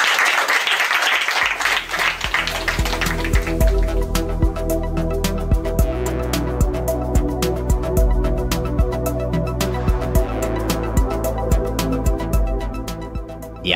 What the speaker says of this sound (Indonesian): Tepuk tangan untuk Bapak asrama.